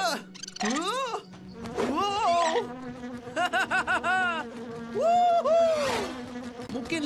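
A cartoon bee buzzes in an animated chicken show, a warbling synthetic drone that rises and falls in pitch. Sharp sliding chirps and whoops recur over a constant low hum.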